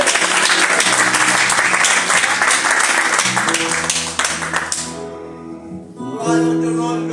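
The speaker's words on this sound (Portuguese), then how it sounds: "Aplauda o Senhor, querido." A church congregation at a worship service applauds loudly and densely for several seconds. The clapping then fades out, leaving sustained keyboard or organ tones ringing on their own.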